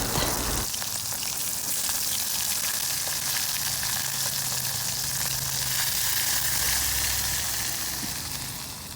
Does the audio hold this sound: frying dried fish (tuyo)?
yes